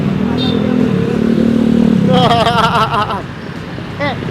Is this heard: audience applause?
no